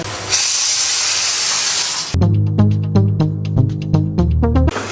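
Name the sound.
pressure cooker releasing steam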